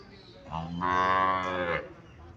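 A native dairy cow at a cattle market in Chouara, Cumilla, gives one long, loud, close moo lasting about a second, with quiet surroundings before and after.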